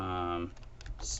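Typing on a computer keyboard: a short voice at the start gives way to a few crisp, close key clicks, spaced irregularly.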